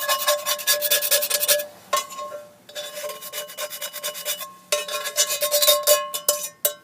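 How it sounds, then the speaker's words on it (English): Scraper rasping across a pan during sausage making, a series of repeated dry scraping strokes in bursts with brief pauses, close and fairly loud. "every now and then I'll go ahead and scrape down the edges on the outside of the pan"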